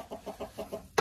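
A hen clucks in a yard where eggs are being collected at a country dacha, five short soft clucks in an even rhythm, close by, ending in a sharp knock.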